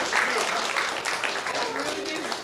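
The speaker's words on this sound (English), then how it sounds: "Give her another round of applause." Applause from an audience at a curvy girl showcase event, steady and moderately loud clapping with cheering voices and chatter mixed in throughout.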